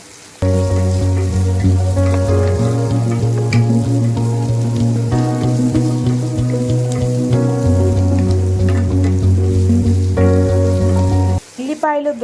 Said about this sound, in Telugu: పొట్టు వలిచేసిన పది పదకొండు వెల్లుల్లిపాయల్ని ఒక ఇంచ్ అల్లం ముక్కల్ని తీసుకొని ఫ్రై చేయండి